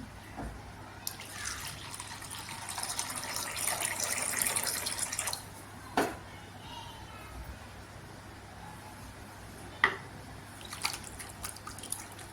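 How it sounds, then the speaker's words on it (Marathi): Water is poured into spiced buttermilk in a kitchen, a steady splashing pour of a few seconds followed by a few isolated faint drips and knocks. "त्याच्यामध्ये पाणी टाकायचं"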